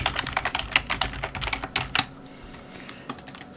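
Close, brisk keystrokes on a computer keyboard as text is entered into a presentation slide, an uneven run of sharp clicks with a brief pause near the end, no voices.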